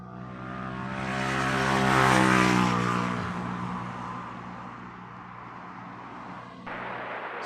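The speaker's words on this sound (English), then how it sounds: "So this Dreamliner, having popped back from Cardiff, will be empty of passengers." Boeing 787 Dreamliner flying near Heathrow, a steady jet roar that swells toward the middle and slowly eases off, with strong tonal engine whine sweeping downward as it passes, heard alone.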